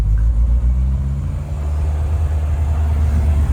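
A BMW E36 project car engine running with a deep, loud, steady rumble that swells slightly as it revs, heard up close and alone.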